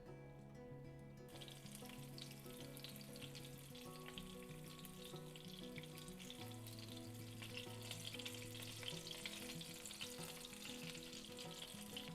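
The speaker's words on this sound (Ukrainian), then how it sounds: "і обсмажуємо з обох боків на пательні" Pumpkin syrnyky, cheese pancakes, sizzle steadily in a frying pan, a continuous bright crackle running under a melodic music track throughout.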